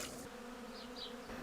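Honey bees buzz steadily around a beehive on a balcony, a continuous close droning hum with no talk over it.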